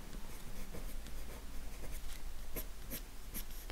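A deep scarlet red colored pencil shades a rose on paper, giving a close, steady scratchy rasp with short rhythmic strokes.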